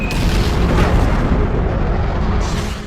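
A missile strike explosion strikes as one loud, close, deep boom that rolls on as a dense rumble and fades slowly over a few seconds, with no voices.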